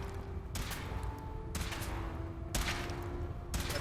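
A weapon fires in evenly spaced heavy blasts during a suit test in the video game Fallout 4, four booming discharges about a second apart over a low background drone.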